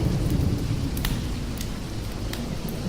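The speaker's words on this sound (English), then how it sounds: "the rain is still beating down, which we can hear" Heavy rain pours steadily and close, with a low rumbling wash of thunder underneath and a few brief sharp crackles, continuous with no voices.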